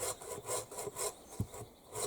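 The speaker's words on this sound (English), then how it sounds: "that's the new Gerber saw" A Gerber saw cuts through wood at a bushcraft camp, giving a steady rhythm of rasping back-and-forth strokes, close and clear, with a slightly heavier stroke midway.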